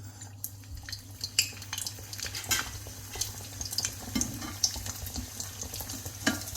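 A frozen paratha cooked with egg, cheese and green pepper fries in a pan, giving a steady soft sizzle broken by scattered crackles and a few utensil taps, close and fairly quiet with no talking.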